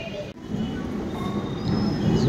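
A local train rolls into a station close by with a low rumbling roar and thin metallic squeals rising over it, growing louder toward the end.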